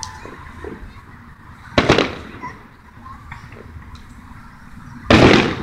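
Two sharp, loud bursts of fireworks go off a few seconds apart over a noisy, rumbling background.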